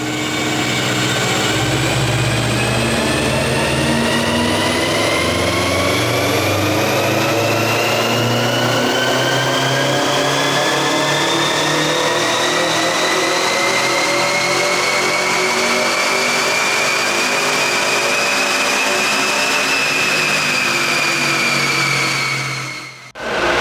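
A 2019 Subaru WRX STI with about 30,000 miles on it makes a final dyno pull, its engine droning loud and close as the revs climb steadily for over twenty seconds before dropping off abruptly at the end.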